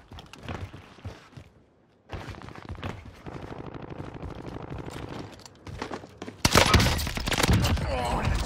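A Whitley LMG fires in Vanguard Warzone on Rebirth Island, with bursts of rapid automatic shots, thuds and impacts mixed with game voices and effects. Quiet gaps fall between the volleys, and a loud, sustained barrage comes at the end.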